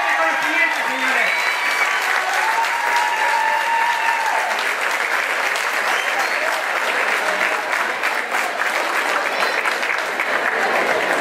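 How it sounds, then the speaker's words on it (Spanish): A crowd at an LGBTTTIQ+ pride march bursts into sustained, close applause honoring a community member, with some voices and a few cheers mixed in over the steady clapping. "Un aplauso para él."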